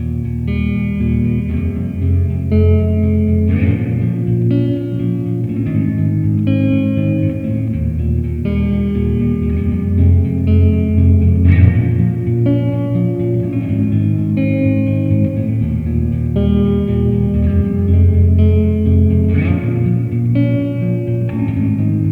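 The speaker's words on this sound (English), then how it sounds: "on the reverb, let's jump to the plate setting" Sustained guitar chords through a Walrus Audio reverb pedal on its plate setting, ringing out with a lush, shimmering reverb tail, notes blending and washing together at steady volume.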